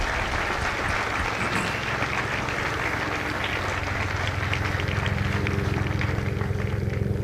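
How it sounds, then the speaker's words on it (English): Audience applause at a Marine Corps recruit graduation for Lima Company at MCRD San Diego, honoring the families: a large crowd claps steadily for about seven seconds, a dense, even roar of hands that swells slightly toward the end. "So if you would all please join me in a round of applause for the families of Lima Company."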